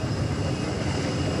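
An aircraft carrying the King of Jordan on arrival in Jakarta, escorted by Indonesian fighter jets, gives a continuous engine drone with a steady tonal whine, constant in loudness, with no speech over it.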